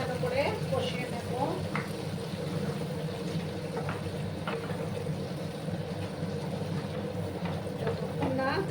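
Cauliflower curry cooking with tomato paste in hot oil in a Bengali home kitchen, giving a steady low sizzle and bubbling throughout with occasional stirring scrapes, close and moderately loud.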